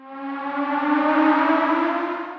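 A siren sound effect in a music production rises and falls in a smooth, sustained wail with a slight echo, swelling gently and then easing off over about two seconds, heard alone.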